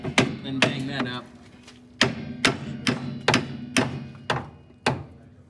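Sharp hammer strikes ring out one after another on a rusty 1962 Ford Thunderbird body, about a dozen metallic blows at an uneven pace, close and clear with brief ringing after each.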